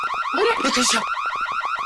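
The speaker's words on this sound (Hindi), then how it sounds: "ये अलार्म की आवाज यहाँ से क्यों आई?" An electronic alarm in a TV crime drama wails in rapid repeating warbling pulses, loud and close, briefly overlapped by a burst of noise.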